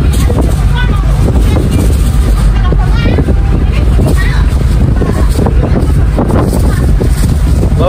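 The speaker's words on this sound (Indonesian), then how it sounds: "Lautnya tenang, hanya anginnya lumayan kencang." Strong wind buffets the microphone on the open outer deck of the Pelni passenger ship KM Awu on a calm sea near the coast, a steady loud rumbling roar with faint voices and ship noise underneath.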